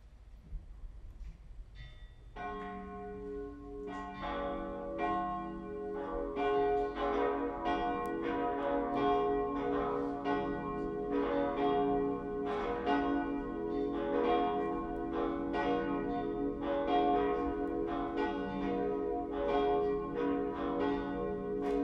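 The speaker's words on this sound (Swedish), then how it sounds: "Låt oss nu lyssna till klockringningen." Cathedral church bells peal continuously after a short quiet start, with several bells ringing together in a dense, sustained, resonant clangor that carries through to the end.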